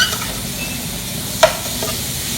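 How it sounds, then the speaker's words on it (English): About a pound of ground beef browning in a pan, a steady, even sizzle near the listener with a single sharp clink of a utensil midway, otherwise quiet and unbroken. "I'm using ground beef, about a pound. So we're gonna brown it up."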